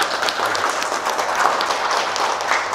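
An event audience applauding to welcome a guest, with dense, steady clapping from many hands that holds at an even level from start to finish.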